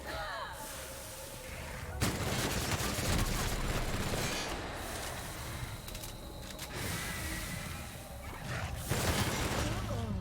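Sustained bursts of gunfire in The Outer Worlds, rapid crackling shots and booms coming in waves, loud and dense, with a voice speaking over the din.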